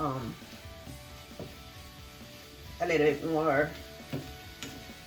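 Scrambled tofu with paprika sizzling and being stirred in a frying pan, soft crackling fry with scraping strokes, quiet under a speaking voice partway through.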